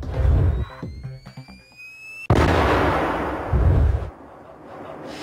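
A Bangalore blade breaching charge fires on a military test range, giving a sudden heavy boom that rolls on with a second surge before dying away, with faint voices around it.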